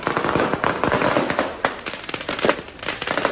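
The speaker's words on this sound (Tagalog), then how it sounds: "kanya-kanyang pasiklaban ng mga biniling paputok ang mga residente" Firecrackers set off by residents at the stroke of midnight on New Year in Cebu City, a dense run of sharp cracks and pops bursting irregularly, loud and close, with no talking.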